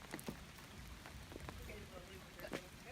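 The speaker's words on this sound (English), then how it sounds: "well, it is raining." Steady rain falls outdoors, making a soft continuous hiss with scattered drip and patter sounds, and a few faint voices underneath.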